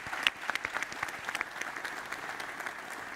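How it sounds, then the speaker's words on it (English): An audience at the World Government Summit 2022 applauds panelists after an hour-long session, a moderate, steady round of clapping that starts with a few sharper claps and then settles into an even patter. "Let's give a nice round of applause to all our panelists"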